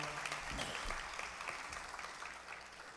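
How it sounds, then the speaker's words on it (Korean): Audience applause for a guest at a Korean talk show event, a faint, steady wash of clapping heard at a distance and slowly tapering off. "다시 한번 박수 보내주십시오."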